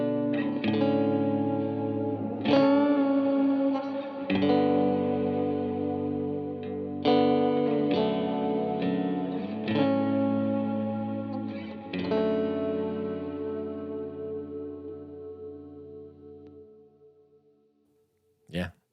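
Electric guitar played through a reverb pedal on its cloud setting, chords ringing into a lush, swirling wash that swells and lingers, several strums over sustained ambient trails fading out, with a brief thump at the end.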